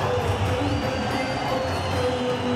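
Spectators at a T10 League cricket final between Northern Warriors and Pakhtoons give a moderate, sustained crowd roar with scattered cheers and shouts, heard at a distance as a steady wash of noise.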